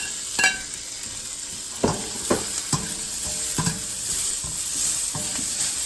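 Onions sizzling in a hot pan for chow mein, with steady frying hiss broken by several sharp scrapes and clacks of a utensil stirring against the pan, close and fairly loud.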